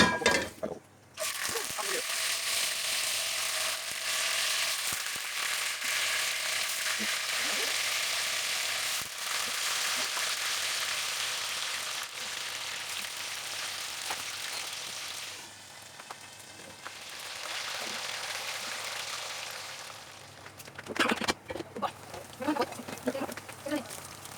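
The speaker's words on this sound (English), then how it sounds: "Then we will cook our tofu." Tofu frying in a pan, a loud steady sizzle that lasts throughout and swells again near the end, with stirring clatter and brief talk.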